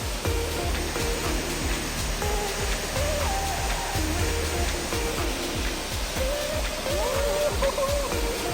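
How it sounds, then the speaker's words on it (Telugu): Sidheswara Kona waterfall in the Rapur Ghat forest of Andhra Pradesh, heard some distance off as a steady, broad rushing roar of falling water that holds an even level throughout, with faint brief chirps and low thuds over the wash. "వాటర్ ఫాల్ అది ఇంకా ఉంది కొంచెం దూరం"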